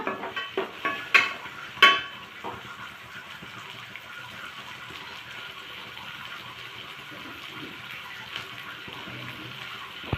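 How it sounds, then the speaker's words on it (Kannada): Chopped coriander leaves being stirred into a cooking chikkadikayi curry in a pan: a few sharp spoon scrapes and clanks at the start, then a steady soft sizzle and bubbling that carries on with no voices. "ಆ ಕೊತ್ತಂಬರಿ ಸೊಪ್ಪನ್ನು ಹಾಕೋಣ. ಇದನ್ನು ಈ ಥರ ಚೆನ್ನಾಗಿ ಮಿಕ್ಸ್ ಮಾಡೋಣ."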